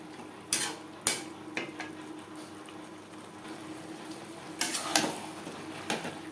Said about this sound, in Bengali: দু তিন মিনিট সবজির সাথে সস বেশ ভালো করে কষিয়ে নেব